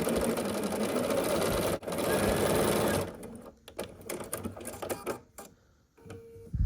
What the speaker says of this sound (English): Now I'm gonna sew this one without pins just to make it faster.